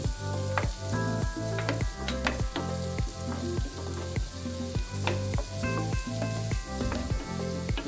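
Plenty of chopped garlic sizzles and crackles in melted butter in a pan while being stirred, a steady, close frying hiss with scraping strokes and no voices.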